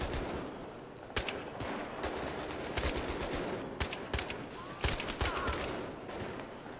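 Gunfire in a Battlefield 3 co-op mission: a steady wash of combat noise with repeated sharp shots and short bursts, some close and loud, others more distant, going on without pause.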